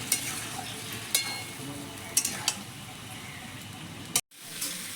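Chicken and potato pieces for a green chicken curry sizzle in a hot pan while a spoon stirs and scrapes them, with a few sharp clinks against the pan and a brief near-silent gap toward the end.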